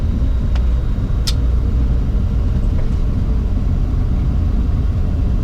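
A Challenger 604 business jet rolls out after landing at Prague with the thrust reversers off. A steady loud rumble of engine and runway noise fills the cabin, with one brief bright tick early on.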